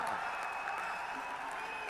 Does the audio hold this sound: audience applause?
yes